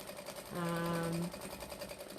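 A sewing machine doing free motion quilting around teddy bear shapes gives a brief, close motor hum with a steady tone. The hum lasts under a second, then drops back to faint room noise.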